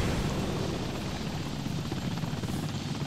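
Helicopter in War Thunder, a loud continuous rotor and engine roar filling the whole stretch, dense and steady with a slight rhythmic flutter.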